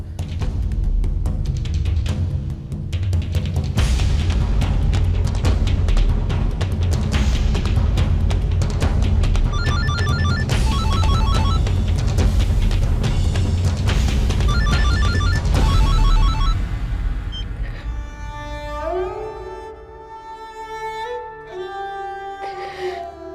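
A telephone rings in repeated trilling bursts during a Hindi television drama, mixed under loud dramatic background music that later fades.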